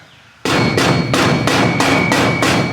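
Heavy hammer blows drive a shaft into place during work on a NASCAR race car revival, about seven loud, evenly spaced metallic clangs ringing close by with no talking.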